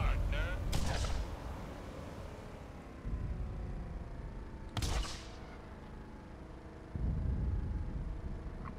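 Rocket launcher fire in Borderlands: a few sharp, loud blasts spaced several seconds apart, each with a rumbling tail, over continuous game noise and low background sound.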